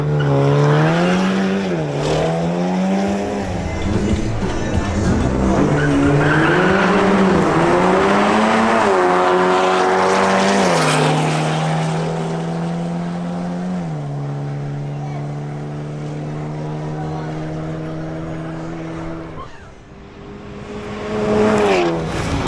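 BMW M240i and Audi S3 in a drag racing duel, engines revving hard with rising and falling pitch through gear shifts, loud and continuous, with commentary spoken over the roar.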